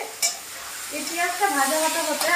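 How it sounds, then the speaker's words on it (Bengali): Four large onions fry in oil in a pan while being stirred, giving a steady close sizzle with scraping stir sounds and a brief clatter near the start. "পেঁয়াজটাকে একটু নাড়িয়ে দিই, যেহেতু তেলে একটু ভাজা হবে"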